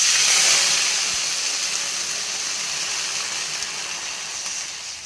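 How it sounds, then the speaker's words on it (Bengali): Water poured into hot ghee in a pan on the stove while making mango halwa, giving a loud hissing, steaming burst at the start that slowly settles into a steady sizzle. "দিয়ে দেবো জল"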